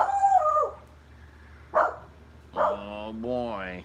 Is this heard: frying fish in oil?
no